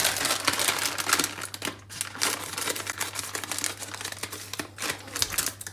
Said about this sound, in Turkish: öncelikle ramenimizi bir açalım